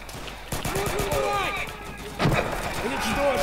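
Gunfire in the Stalingrad battle of Easy Red 2: a few sharp shots with echoing tails, one near the start and a heavier blast a little later, set against battlefield noise with a player talking over it.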